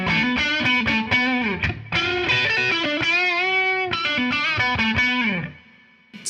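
A 1973 Fender Telecaster Custom through a Wampler overdrive pedal plays a simple riff of chords and single notes, crunchy and sustained, ending with the notes ringing out to quiet.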